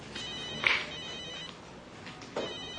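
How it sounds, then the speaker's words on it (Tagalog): A mobile phone ringtone chimes in short repeated electronic tones, moderately loud and close, with no talking over it. "Nagre-ring yung phone, sandali lang ha."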